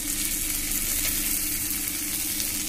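Onion and chopped tomato fry in a pan with a loud, even, close sizzle that holds steady for a few seconds, no one speaking.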